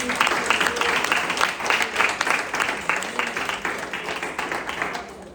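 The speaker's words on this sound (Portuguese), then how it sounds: "As palmas pro Senhor." A church congregation claps together during a worship service, a dense, steady wash of many hands that fills the room, with faint singing or voices underneath.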